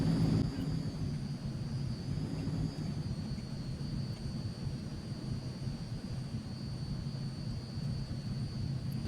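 A Transall C-160 taxis toward the end of the runway in Microsoft Flight Simulator, its turboprop engines producing a steady droning rumble with a thin high whine running throughout and no speech.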